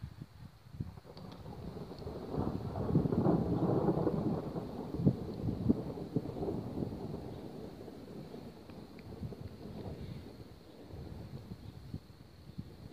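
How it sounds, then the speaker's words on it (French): Thunder rumbles through a dry summer thunderstorm in Lœuilly, a long rolling low roar that swells and slowly fades, with wind noise across the microphone and no voices. "on dirait un orage d'été sec"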